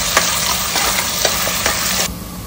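Onion with curry leaves, mace and shahjeera sautéing in a pan: a steady, close sizzle with spoon scrapes and stirs roughly every half second. The frying quiets abruptly near the end.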